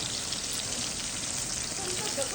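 Onion frying in a pan for biryani gives a dense, even sizzle that stays close and loud throughout, with no breaks and no voices.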